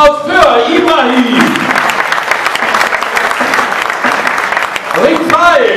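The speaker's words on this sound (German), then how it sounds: "Euer Applaus für Ibrahim!" A boxing crowd claps and cheers loudly for a fighter in the ring, a thick continuous wash of applause, with an amplified announcer's voice at the start and again near the end.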